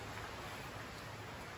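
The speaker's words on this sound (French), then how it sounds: "Il pleut. J'aime ce temps. J'aime vraiment quand il pleut comme ça." Rain falls steadily outdoors in Guadeloupe, a faint, even hiss of drops with no talk over it, soft and continuous throughout.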